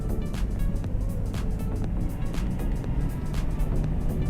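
A BMW E60 with a 2.5-litre diesel engine driving along gives a steady low engine drone with road and wind rush, continuous and fairly loud inside the cabin.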